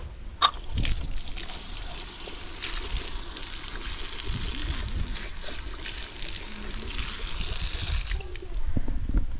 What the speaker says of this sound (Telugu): ఇక్కడ మనం కాళ్ళు కడుక్కుందాం.